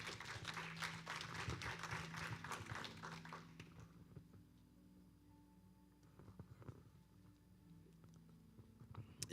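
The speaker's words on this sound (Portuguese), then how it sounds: "Dá uma salva de palmas ao Senhor aí por isso." Clapping from a church congregation, dense and lively at first, then thinning out into scattered claps over a quiet, reverberant room.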